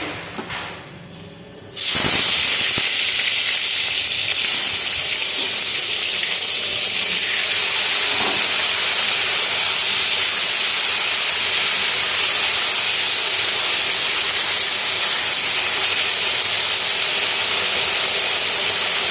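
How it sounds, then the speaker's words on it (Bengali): Potato and eggplant pieces fry in hot oil with a sudden loud hissing sizzle that starts after a quieter moment and then holds steady and close, with no talking. "এবার আলু বেগুনটাকে ভেজে নেব"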